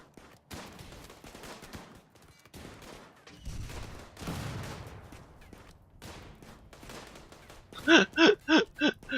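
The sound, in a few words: incendiary rounds launcher firing in the video game RimWorld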